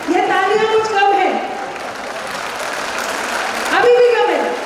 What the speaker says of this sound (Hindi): अब दोनों मिलकर जरा ताली बजाइए।